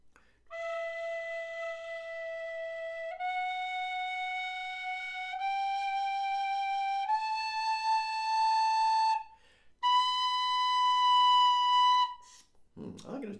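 A tin whistle holds a series of long, clear sustained notes, each stepping higher, with a brief pause before the final high note.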